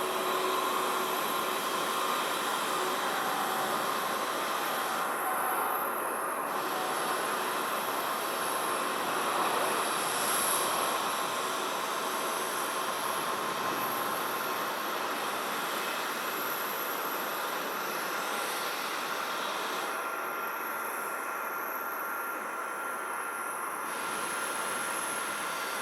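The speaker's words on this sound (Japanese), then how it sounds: "飛行機は羽田空港 C 滑走路、ランウェイ16レフトから離陸です。" Aircraft taking off from runway 16L at Haneda Airport: a steady, broad jet roar at moderate distance, holding an even level throughout with a faint whine on top and no talk.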